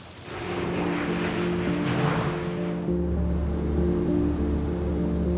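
Steady broadband hiss of rain on a New York City building construction site, loud and continuous, with a low engine-like hum entering partway through.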